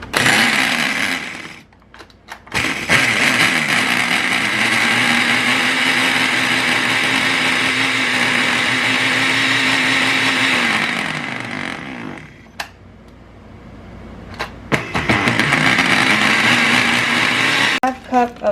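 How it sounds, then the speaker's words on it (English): A kitchen blender pulses a cup of walnuts down into crumbs for a cheesecake crust, roaring in one long burst, cutting out, then whirring again briefly, loud and close. "I'm just going to use the pulse on the blender"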